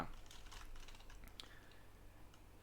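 Quiet clicking of computer keyboard keys as code is typed for an Android program, quick irregular taps fading over a couple of seconds.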